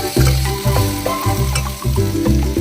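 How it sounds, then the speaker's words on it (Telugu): Whole garam masala and chillies frying in a hot kadai, loud close sizzling with rhythmic stirring strokes repeating every half second or so. "మిరపకాయలు కొన్ని, హోల్ గరం మసాలాలు అన్నీ వేసుకుంటున్నా అండి"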